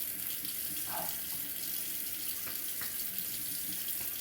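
Tap water runs steadily into a sink while a straight razor is rinsed, a soft constant hiss with a few faint clinks.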